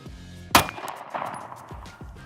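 A single sharp gunshot from a Sig Sauer P365 X-Macro pistol with an optic, fired at a target about 10 yards away on a range, cracks loudly once and then decays into a brief echo.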